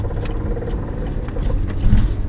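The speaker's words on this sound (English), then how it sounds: "I gotta change those parts of my car. It sounds like it's getting worse." A car engine with worn parts runs steadily close by as a low rumbling drone with faint irregular knocks, heard while driving with no talk.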